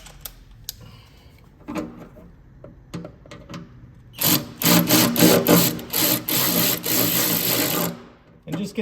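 A 4mm hex key turns a bolt to fasten a splash guard on a 2021+ Ford Raptor Gen 3, with scattered clicks and then a dense burst of ratcheting, scraping metal near the end, alongside some talk.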